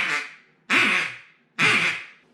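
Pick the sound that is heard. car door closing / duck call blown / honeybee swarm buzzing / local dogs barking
duck call blown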